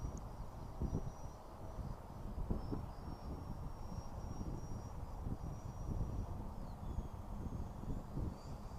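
A LX Models F-117 Nighthawk 70mm EDF model jet comes in to land, a faint high ducted-fan whine over a low rumble of wind and outdoor noise, steady and distant.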